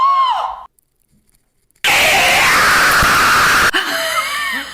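A man lets out a loud, harsh scream that lasts about two seconds and follows a brief silence. Shorter squealing sounds come just before and after it.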